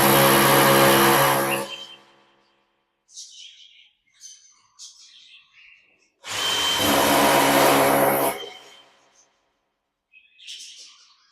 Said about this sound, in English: drill directly into the wall using a 7mm drill bit